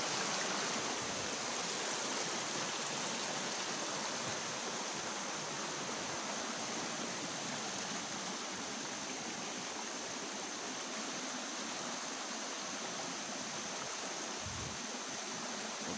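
Steady broadband rush of flowing stream water fills the whole stretch, constant and fairly close, with no voices over it, on an overgrown trail.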